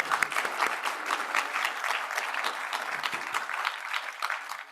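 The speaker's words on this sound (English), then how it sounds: "please join me in a round of applause" Steady applause from a crowd at a road safety awards ceremony, many hands clapping densely and evenly throughout, fairly loud and without any voices over it.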